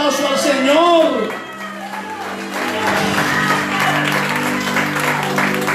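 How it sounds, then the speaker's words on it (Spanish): A church congregation applauds the Lord during a Spanish-language service, a broad wash of clapping and crowd noise rising after a voice speaks over sustained music at the start. "Denle un aplauso al Señor"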